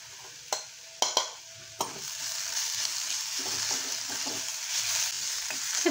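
Chopped onion and garlic sautéing in a pan, a few sharp spatula knocks at first, then a steady broad sizzle that grows louder, close up and without speech.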